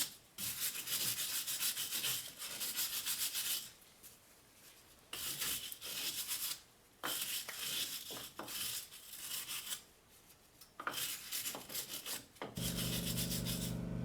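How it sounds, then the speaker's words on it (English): Wire brush scrubbing the bearing mount on a Chevrolet Silverado during wheel hub replacement, loud bursts of harsh rasping strokes separated by short pauses. "we're gonna use the wire brush to clean up this entire area so that our new hub assembly can slide in easily."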